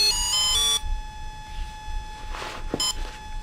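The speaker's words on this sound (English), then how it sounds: "then it'll do its little setup song" An Exeed RC Proton and Volcano ESC plays its setup tones: a quick rising run of bright electronic beeps at the start, then a steady faint tone, followed by a single short beep near the end.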